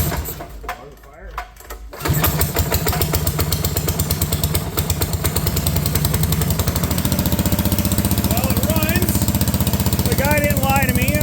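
A junkyard Honda Odyssey go-kart engine cranks after a quiet pause, catches and settles into a loud, steady rattling run, close by, with a voice speaking faintly over it.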